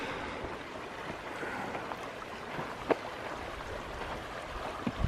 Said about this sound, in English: Big old smooth boulders in there the water's running over